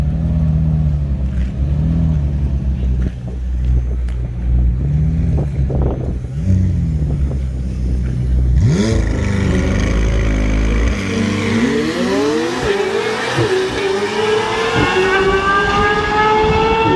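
A Lamborghini engine on a drag run starts with a rough idle, then revs hard and climbs through rising, screaming gear pulls, loud and close, with no voices.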